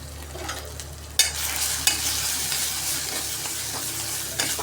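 Green chillies and turmeric sauté in hot oil, a bright steady sizzle that jumps in loudness after a second, with occasional spoon scrapes and clinks as the mixture is stirred close by.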